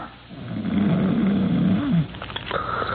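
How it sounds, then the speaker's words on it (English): A big, heavily muscled, early middle-aged man in a hospital bed lets out one long, loud, rasping snore that breaks off abruptly, followed by quieter room sound. "from the big, heavily muscled, early middle-aged man in it, comes a rhythmic and ear-shattering snore"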